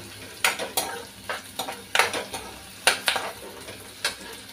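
A spoon stirs green paste into browned onions in a pan, giving repeated scraping clanks against the metal at an uneven rhythm over a faint sizzle.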